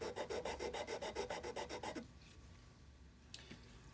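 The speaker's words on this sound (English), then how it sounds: "After getting the nut kind of ground down, getting a little nubby out of there" Rhythmic rasping strokes of a file grinding down a Graph Tech Tusq XL nut on a Fender Stratocaster, about a dozen quick even passes up close for two seconds, then stopping, leaving faint room noise and a small tap.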